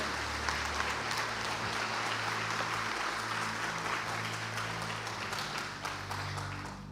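Steady applause from a large church congregation fills the whole stretch, dense and even, with a faint low hum beneath.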